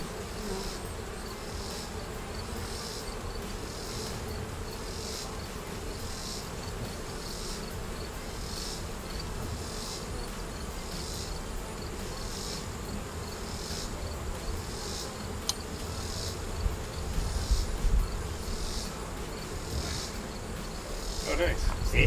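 A steady, close swarm-like drone of honeybees from an open hive being stirred and smoked while being readied for winter, the buzzing holding level and thickening slightly toward the end.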